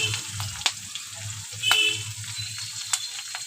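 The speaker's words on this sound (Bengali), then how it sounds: "স্বাদ মতো লবণ দিয়ে একটু ভেজে নেব হালকা করে" Crushed garlic and turmeric fry in hot oil with a steady, close sizzle and crackle, punctuated by a few sharp clinks of a utensil against the pan.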